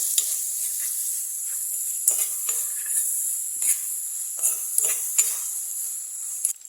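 Ginger, garlic and curry leaves sizzle in hot oil for a mackerel curry, a loud steady hiss close by, punctuated by a few sharp clinks and scrapes of a utensil against the pan.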